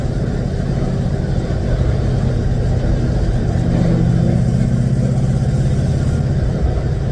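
An old 1964 Chevy car engine runs steadily up close, a loud continuous rumble with a slight rise in pitch partway through, no voices.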